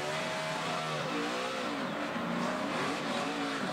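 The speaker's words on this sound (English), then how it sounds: "the audio, you could hear the thing wheel hop" A stock car at the 2012 Toyota/Save Mart 350 race braking hard into a turn with its wheels hopping, a loud, continuous engine roar with juddering, stuttering pitch as the tires skip and squeal.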